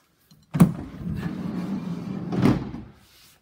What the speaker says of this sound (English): So on this Maxi, we've got twin sliding doors.